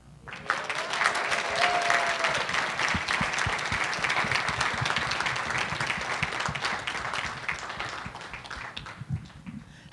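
An audience at a WCC sportsmanship award ceremony breaks into sustained applause for a Santa Clara University men's tennis student athlete, dense clapping filling the room and easing slightly toward the end, with some crowd voices mixed in.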